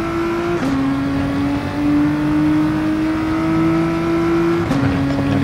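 A race car engine in Gran Turismo Sport holds a steady high whine that climbs through the gears, with brief shift dips between them, loud and close with no talk.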